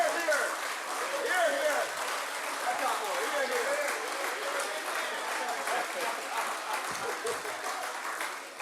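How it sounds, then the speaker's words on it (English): An audience at the Jamaica Civil Service Association annual general meeting gives a standing ovation, with steady, dense applause mixed with crowd voices and chatter throughout. "give the Prime Minister a round of applause, a standing ovation"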